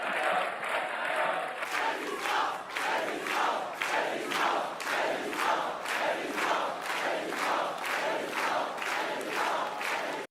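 Large crowd at a French political rally rhythmically chanting and clapping in unison, a steady repeated beat of loud, roomy cheers filling the hall throughout.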